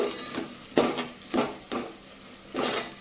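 Chili powder stirred and fried in oil for Telugu fish pulusu, heard as rhythmic spoon scrapes against the pan over a soft continuous sizzle, close and clear.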